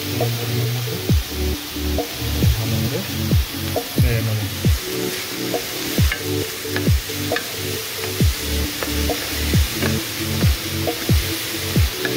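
Finely chopped onions fry in a pan on an induction cooker, a constant sizzle punctuated by regular scraping stirs roughly every second, close and clear with no speech.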